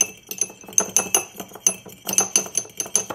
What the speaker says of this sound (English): then you whisk it like this